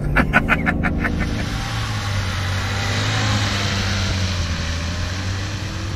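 A Porsche 991.2 GT3 held in a slow 12 mph slide on a driving-school course, its engine droning steadily with a brief cluster of clicks and tyre noise near the start, no voices.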